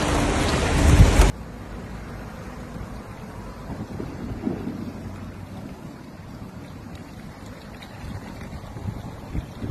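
Steady, dense storm rainfall during Storm Ciarán in Newry, Northern Ireland, hisses throughout, opening with a brief louder burst before settling into a constant heavy wash with faint low rumbles.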